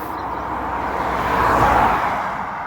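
Steady broadband road traffic noise from a nearby street, a continuous roar of passing cars that swells slightly mid-way and then eases, with no voices.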